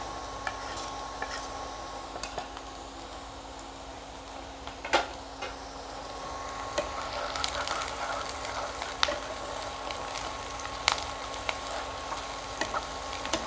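Crushed ginger and garlic frying in a pan with onions as paneer bhurji is cooked, a soft, steady sizzle. Occasional faint clicks and knocks of utensils sound over it.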